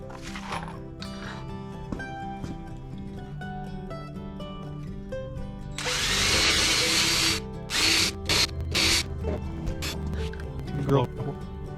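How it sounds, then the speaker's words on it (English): A power drill pre-drills holes for casters in a wooden rolling storage cart, with several short bursts of whirring amid a busy workshop background and someone talking. "I'm going to pre-drill them because you don't pre-drill stuff like this,"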